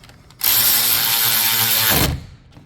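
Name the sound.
ratchet tightening 13mm nut on car starter motor wire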